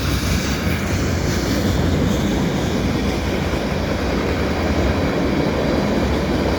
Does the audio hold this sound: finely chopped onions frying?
no